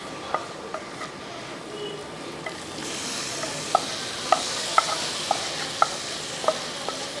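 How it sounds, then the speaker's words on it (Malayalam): Pulissery curry stirred in a pan after a sizzling seasoning is poured in: soft steady sizzle with regular light taps and clinks of the spoon against the pan, close and unaccompanied by voices. "ഇനി ഇതൊന്ന് ഇളക്കി നല്ലപോലെ ഒന്ന് മിക്സ് ചെയ്തെടുക്കും"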